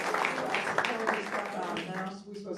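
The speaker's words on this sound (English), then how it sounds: "Let's give them a round of applause." An audience at a civic meeting applauds, a steady wash of clapping mixed with voices, moderately distant and fading near the end.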